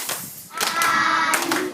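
Schoolchildren in a phonics class clap in unison to mark out a word's sounds, a burst of sharp group claps rising after a brief pause, fairly near and moderately loud.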